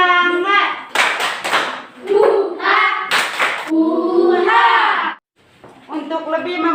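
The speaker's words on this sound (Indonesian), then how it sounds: "Tepuk semangat." A school class doing a rhythmic spirit clap, crisp bursts of group hand claps in short patterns alternating with children chanting and singing loudly, up close.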